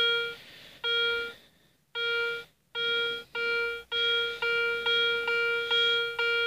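A Solfernus v2.6 metal detector in a ground test gives a series of clear electronic tones, short repeated beeps that come faster and more evenly toward the end, close and alone.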